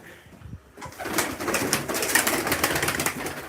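Pigeons in a Turkish pigeon fancier's loft, a low throaty cooing rising from quiet into a steady burbling chorus with soft rustling, fairly close and without talk.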